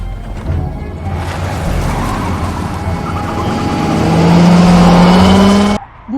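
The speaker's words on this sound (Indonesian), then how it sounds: "mereka harus bertabrakan dengan sebuah mobil sedan hitam" Car chase in a film scene ending with a collision against a black sedan: loud engine roar and tire squeal building to a long skid, then an abrupt cutoff and a brief impact thump.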